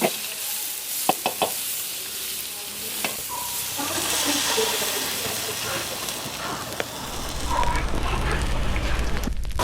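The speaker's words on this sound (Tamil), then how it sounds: "இப்போ இதுக்குள்ளே எடுத்து வச்சிருக்கிற ரெண்டாவது தேங்காய் பாலை ஊற்றிடுவோம்" Coconut milk goes into a pan of oil-fried chickpeas for a Jaffna-style brinjal curry, giving a soft steady sizzle and hiss with a few clinks of a utensil, moderately close, and the frying grows louder toward the end.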